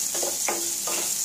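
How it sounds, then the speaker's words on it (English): Beetroot thoran with shredded coconut, garlic and curry leaves is stirred in a pan on a medium-low flame, giving a constant sizzle with a few short scraping strokes of the spoon. "We have to stir it well."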